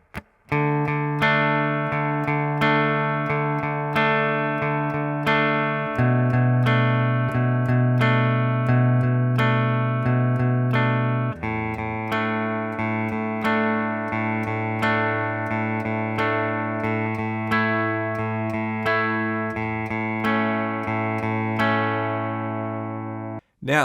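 An electric guitar strums the repeating verse chord progression of a song, each chord ringing out steadily, played alone with a clean, sustained tone and no voices.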